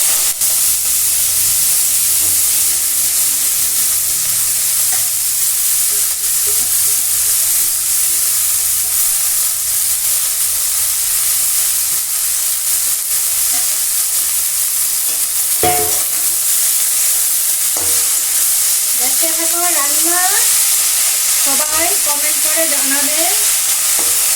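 Beto greens hiss and sizzle steadily as they are stirred and fried in oil with five-spice, with scraping stir sounds throughout and a few brief higher tones near the end.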